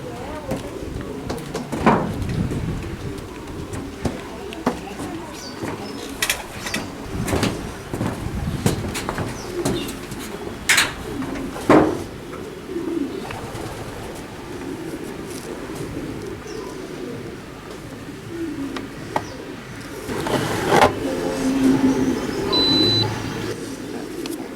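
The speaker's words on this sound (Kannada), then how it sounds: "ಈಗ ಜಸ್ಟ್ ಬರ್ಡ್ ಬಂದಿದೆ." Racing pigeons arriving back at the loft after a 1000 km federation race, with soft cooing, wing flutters and scattered knocks and clicks near the loft, while someone talks over them.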